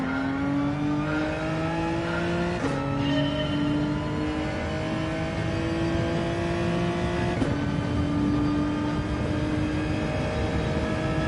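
Hyundai Genesis Gr.4 race car in a racing video game, its engine revving steadily higher through the gears, with two clear upshifts where the pitch drops before climbing again; loud, continuous and alone.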